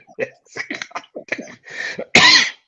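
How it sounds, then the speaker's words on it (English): A single sharp, harsh cough bursts out near the end, following a stretch of quiet, indistinct talking. "Maybe old man cough."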